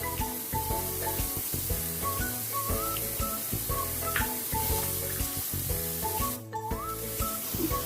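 Grated carrot and mushrooms fry in a pan for a veg roll, giving a steady, loud sizzle that runs without a break. Clear tonal chimes and beeps play over the frying throughout, and there is one brief dip near the end.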